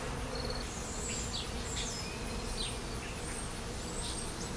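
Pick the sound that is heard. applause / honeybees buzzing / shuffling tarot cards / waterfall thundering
honeybees buzzing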